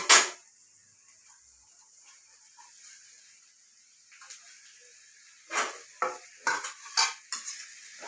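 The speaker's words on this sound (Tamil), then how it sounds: "இப்போ வந்து மஞ்சத்தூள் போட்டு எல்லாம் வதக்கிட்டாங்கங்க வதக்கிட்டு அடுத்து வந்து காய போட போகிறாங்க" Broad beans sauté with turmeric in a pan. A faint, steady sizzle runs throughout, broken by a sharp scrape at the start and a burst of quick metal stirring scrapes near the end.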